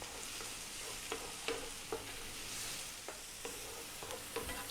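Onions and garlic sautéing in a pan while being stirred, a soft steady sizzle punctuated by several light scrapes of a utensil at irregular intervals, fairly quiet and with no one speaking.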